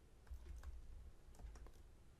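Someone types an SQL query on a computer keyboard in short bursts of soft key clicks, faint and close, with no talk.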